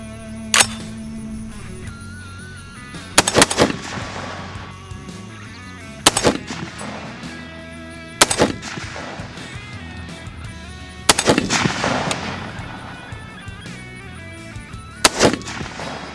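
Loud gunshots from a Bear Creek Arsenal Huntmaster 30-06 rifle fired outdoors, about seven sharp cracks spaced irregularly a second or more apart, each ringing briefly, with low background noise between them and no talk.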